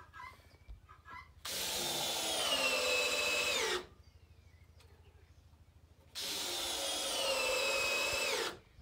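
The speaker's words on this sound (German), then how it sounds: "Dann schraube ich das fest und dann unterlege ich das." Two loud, sustained whirring bursts of a power screwdriver driving screws into wooden porch posts, each lasting a couple of seconds, separated by a quieter pause with faint background hum.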